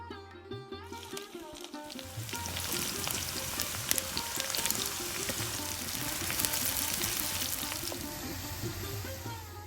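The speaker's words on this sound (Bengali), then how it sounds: "তেলটা গরম হয়ে গেছে, এবার এর মধ্যে দিয়ে দেবো কুচনো পেঁয়াজ।" Chopped onion frying in hot mustard oil in a kadai, a steady crackling sizzle that builds after an initial splash and holds at moderate loudness throughout.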